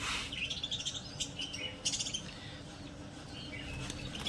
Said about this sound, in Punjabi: ਚਿੜੀਆਂ ਦੀ ਚਹਿਕ